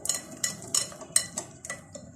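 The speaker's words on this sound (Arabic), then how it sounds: "هقلب كده لحد ما يعني كله يختلط معايا كويس قوي" Batter of flour for Damietta-style mushabbak being stirred in a bowl, with a run of soft, irregular clinks and scrapes of a utensil against the bowl, close and quiet, with no talking.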